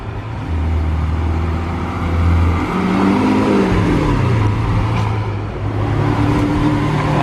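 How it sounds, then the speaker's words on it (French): Lamborghini Aventador Roadster pulling out of a parking space, a loud, close deep engine rumble that rises and falls with low revs as the car maneuvers, no voices. "il y a une Aventador Roadster qui est en train de sortir de sa place"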